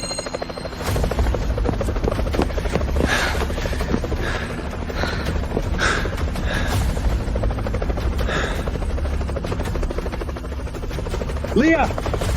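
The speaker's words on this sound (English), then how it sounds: "Get the helicopter here within 5 minutes." A helicopter flies nearby, its rotor thumping in a loud steady chop for the whole stretch, with brief voices breaking in.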